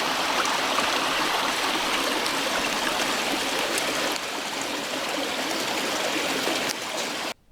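Mountain valley stream flowing, a steady close rushing and trickling of water that carries on evenly without talk and cuts off abruptly at the end.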